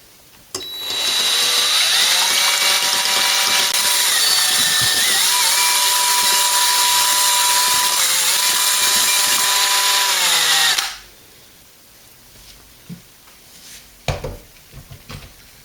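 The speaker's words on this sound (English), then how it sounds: "And yes, I am actually using a drill as my mixer here." A power drill fitted as a mixer whirs steadily and loudly for about ten seconds while stirring dumpling batter with milk, its motor pitch dipping and recovering as it works, then cuts off, leaving faint clinks and kitchen handling sounds.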